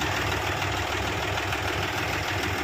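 A Mahindra 265 DI tractor engine idles in a steady, loud mechanical rumble with a faint knocking pulse and no pauses.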